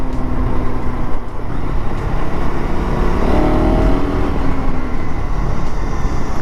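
A KTM ADV 250 adventure motorcycle ridden on the road with clutchless gear shifts, its engine droning steadily and loud under heavy wind rush, pitch rising slightly mid-ride.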